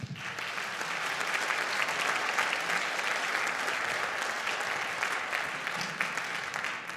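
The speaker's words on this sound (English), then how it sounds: "How about another round of applause for our string students?" Steady, dense applause from a school winter concert audience for the string students, sustained and fairly distant, filling the hall without pause.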